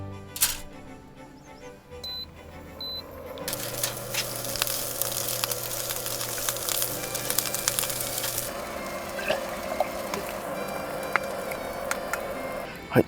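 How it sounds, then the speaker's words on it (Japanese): Shishamo smelt frying in a frying pan lined with foil sheet, cooked on an IH burner inside a Daihatsu Atrai mini camper van: a steady, moderate sizzle that swells after a few seconds and holds, with small ticks and clicks. "次はフライパンでししゃも焼いていきます"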